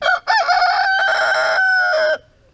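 A pet bird at a roadhouse at Ruby Creek, Alaska, crows like a rooster in a loud, close, drawn-out cock-a-doodle-doo lasting about two seconds, with no talking over it.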